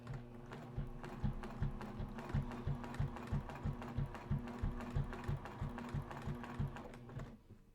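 Sewing machine stitching in the ditch along the seams of a log cabin quilt, a steady rhythmic run of needle strokes that keeps a fairly even pace, close and moderately quiet, with no voice over it.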